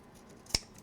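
A single short, crisp snip of scissors cutting paper for a file folder album insert, close and isolated against a quiet room.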